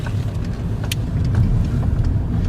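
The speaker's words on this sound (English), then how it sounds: "I think it sounds very good for a diesel as well." Steady low drone of a 2005 Skoda Fabia vRS turbo diesel engine heard from inside the car while driving, loud and continuous with faint road noise and a few small clicks, no talk.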